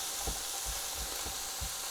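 Sausage casserole vegetables softening in a pan over gentle heat, giving a steady close sizzle with soft periodic low thumps as they are stirred, no voices.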